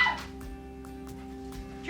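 A Pomeranian dog whimpers excitedly indoors, giving soft, brief whines and yips that recur over a steady low electrical hum.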